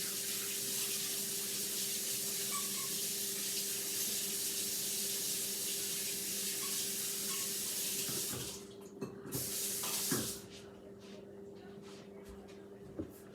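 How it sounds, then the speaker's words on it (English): Tap water runs steadily into a kitchen sink while a spoon is rinsed. The flow is constant and close for most of the time, then cuts off, leaving a few clinks and light handling noises. "Wash my spoon off real quick."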